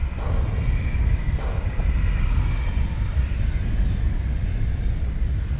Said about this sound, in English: C-17 over the top